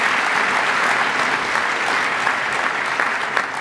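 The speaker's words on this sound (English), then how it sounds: "How about another round of applause for her?" Sustained applause from an audience at a track and field awards ceremony, dense and steady for several seconds with no talking.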